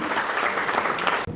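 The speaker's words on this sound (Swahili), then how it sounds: "Tupigie makofi zaidi hapo." Audience applause at a Mulembe Unified event in Kakamega, a steady dense burst of clapping filling the room, breaking off sharply near the end.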